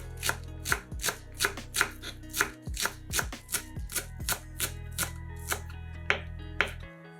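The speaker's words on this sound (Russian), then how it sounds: "3-4 стебля зеленого лука нарезаем ножом." A knife chops three or four green onion stalks on a board, a steady run of sharp, crisp cuts at a brisk, even rhythm with short pauses, close and clear with no talking.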